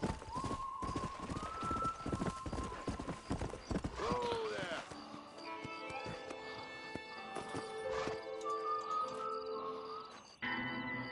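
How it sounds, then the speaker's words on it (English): Horse hooves clip-clopping in the Western video game Red Dead Redemption, a steady rhythmic clatter near the listener, mixed with game music, a whinny-like swoop and spoken voices over it. "This horse is now your trusty steed."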